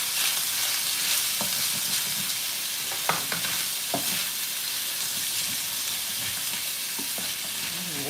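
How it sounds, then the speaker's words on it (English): Link sausage sizzles steadily in a hot pan for breakfast fried rice, with occasional scrapes and stirring knocks cutting through the constant frying hiss. "I'm going to put in my meats here. Link sausage."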